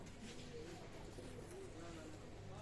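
Low, soft cooing of a pair of Pakistani pigeons close by, repeating in gentle murmurs over a faint background hum.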